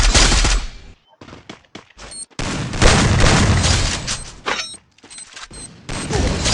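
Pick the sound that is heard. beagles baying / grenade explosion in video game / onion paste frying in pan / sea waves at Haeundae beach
grenade explosion in video game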